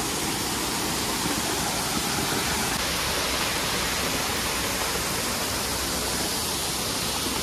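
Khavne waterfall in Malvan pours in a steady, loud broadband roar of falling water, constant and close throughout with no voices.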